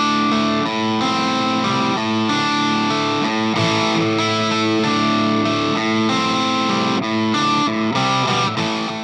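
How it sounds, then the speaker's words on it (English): A heavily distorted electric guitar plays sustained, crunchy chords and riffs, loud and continuous throughout, with no talking. "giving you some slightly crunchy cleans, all the way up to the ridiculous distortion you'd expect"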